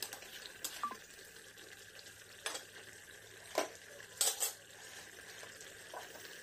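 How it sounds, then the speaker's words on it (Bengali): Mutton curry stirred in a pot after simmering under a lid, with scattered clinks and scrapes of a spoon against the pot over a faint background hiss, close and intermittent, no voices. "প্রায় 5-7 মিনিট পর আমি ঢাকনাটা তুলে ভালো করে নেড়ে চেড়ে দেব।"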